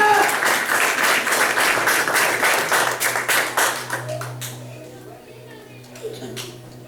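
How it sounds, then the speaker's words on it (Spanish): A church congregation applauds with brisk, dense clapping that fills the room, then thins out and fades. A voice speaks as the clapping dies down. "Denle un aplauso al Señor"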